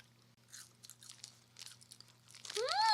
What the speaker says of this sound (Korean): 여기 치즈 소스에 감자튀김을 찍어 먹을까?